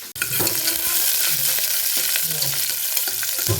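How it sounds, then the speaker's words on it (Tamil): Onions sautéing in a pan for chicken butter masala, a steady broadband sizzle with scraping stir sounds and occasional clinks throughout, close and fairly loud, with no talking. "இது வதக்கும் போது கொஞ்சம் மட்டும் ஆனியன் போட்டு வதக்கிக்கலாம்"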